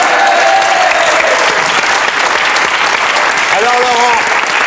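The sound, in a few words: studio audience applauding game show contestants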